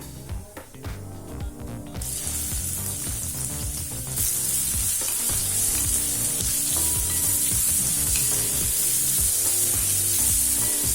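Two large finely chopped onions frying in hot oil with fennel seeds, a loud, steady sizzle that grows fuller after being stirred, with scraping and clatter early on and no voices.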